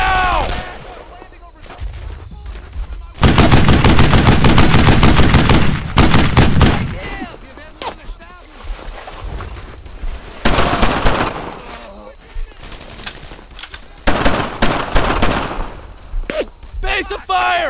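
Rapid machine gun bursts and rifle shots crackle loudly in the Brothers in Arms: Earned in Blood shooter, with heavy sustained fire in several long bursts and shorter volleys between them over battle ambience.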